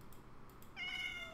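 A single cat meow from a Minecraft-style Fallout game, faint background hiss at first, then one short, high, tonal mew near the end of the moment, with no talking.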